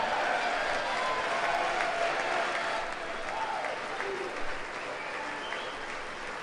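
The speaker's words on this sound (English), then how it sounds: "I'm going to forward through some of the clapping" Sustained applause from a large crowd at a State of the Union address, steady and dense clapping throughout with a faint murmur of voices underneath.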